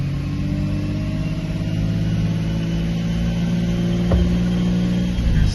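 A Lexus SC300 with a 2JZ engine runs on a dyno, its loud steady engine drone sustained through the gears with strong low harmonics and a slight shift near the end.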